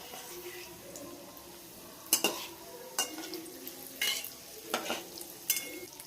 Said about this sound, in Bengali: গ্যাস একদম কমিয়ে রেখে আস্তে আস্তে এইভাবে ভাজতে হবে